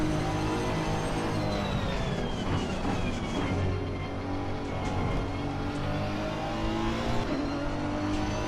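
A Honda race car in Assetto Corsa Competizione drones and revs continuously at close range, its engine note rising and falling with gear changes throughout.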